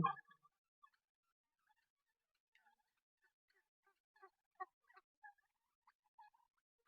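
Three-and-a-half-month-old turkeys on a farm give faint, scattered gobbles and short calls, with a louder burst at the start and then quiet, intermittent bursts across a near-silent background.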